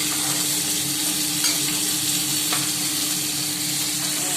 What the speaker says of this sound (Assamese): মাছ মই ভাজি আছোঁ।